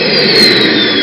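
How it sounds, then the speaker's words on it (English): A small jet engine winding down right after shutdown while a little electric starter motor keeps spinning to pull cooling air through the turbine; a loud, steady whine and roar with a slowly falling high tone, close and alone. "you'll hear a little electric starter motor going. It's pulling air through the turbine so it can cool down"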